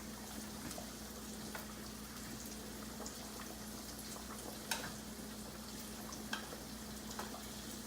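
Spaghetti being tossed in a pan of homemade sauce gives a soft, steady sizzle and bubbling with a few faint scrapes and clicks, quiet and without talk.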